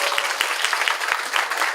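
Scattered audience applause at a Seoul meet-up of an international interpreters and translators association, a thin, steady patter of clapping lasting under two seconds without voices on top.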